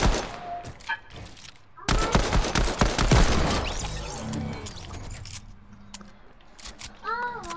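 Hand cannon gunfire in the Fortnite video game rings out in a dense, loud volley of sharp shots mid-clip, with a few isolated shots before and after, and a voice talking around the firing.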